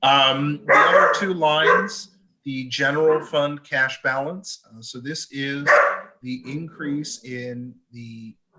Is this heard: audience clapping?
no